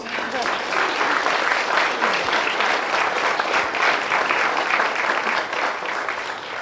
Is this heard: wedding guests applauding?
yes